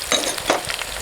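Garlic paste and green chillies sizzling in hot oil for a biryani, with a loud, steady fry and a quick stir or two close up.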